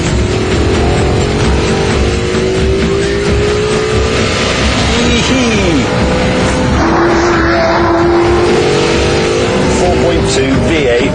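A 2005 Maserati Quattroporte with a 4.2 V8 engine drones steadily while the car drives, with gear-change pitch rises, road and cabin noise, and speech over the top.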